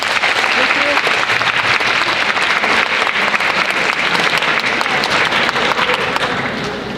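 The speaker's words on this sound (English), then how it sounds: "So give yourselves a round of applause." An audience at the POL Finals 2020 competition breaks into loud, dense applause that carries steadily for several seconds close up, easing off only slightly at the very end.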